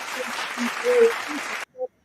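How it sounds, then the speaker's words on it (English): Applause from a small studio audience during a Monday radio show, a steady broadband patter of clapping that runs about a second and a half and then stops abruptly, with a short voice afterward. "Let's give Michael a big round of applause on this Monday."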